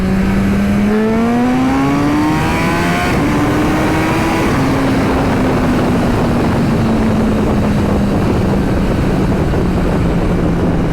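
A modified full-carbon Suzuki Hayabusa motorcycle accelerates hard in second gear on an open road, its engine note climbing steadily then holding a sustained high drone with wind rush, loud and close throughout.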